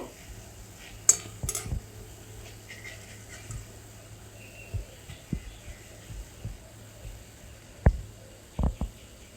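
A metal spoon scrapes and taps against a pan while a sweet is stirred in sugar syrup, making sporadic close clinks and knocks over a low background hum.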